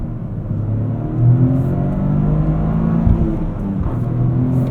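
A 2023 Toyota GR Corolla's engine drones steadily under load as the car accelerates, a continuous close rumble with a slight swell partway through.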